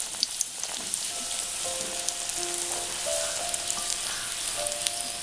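Dough sizzles and puffs up in very hot oil, a steady close-up frying hiss with light crackles and occasional pops all the way through, no voices over it.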